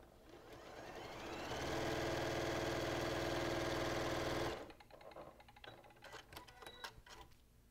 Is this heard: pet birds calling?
no